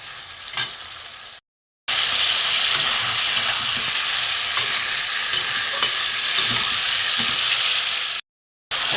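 Vegetables sizzling and being stirred with spices in a pan for a vegetarian dish, a steady close frying hiss with scraping stirs, broken by two short silent gaps.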